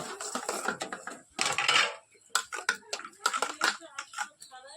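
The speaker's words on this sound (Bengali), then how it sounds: "আচ্ছা দাদা একটু বাসন কটা ধুয়ে আসছি" Dishes, pots and cutlery being washed by hand in a home kitchen, with irregular clinks, scrapes and splashes of running water in close bursts, rising and falling without talk.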